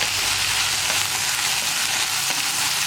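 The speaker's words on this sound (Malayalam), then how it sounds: "വെണ്ടയ്ക്കയുടെയും സവോളയുടെയും കളർ മാറി പോകാത്ത രീതിയിൽ നമ്മൾ ഇളക്കി കൊടുത്തുകൊണ്ടിരിക്കണം" Okra and onion with curry leaves fry in a pan with a dense, loud, continuous sizzle heard close up, and no voices over it.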